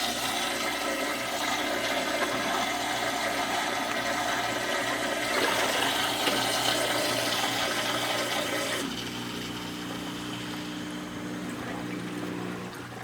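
Toilet tank refilling after a flush, with a Durso standpipe overflow on a pump chamber setup: steady rushing water flow, loud and continuous, dropping slightly in level toward the end as the flow settles.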